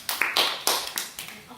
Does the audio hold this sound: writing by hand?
no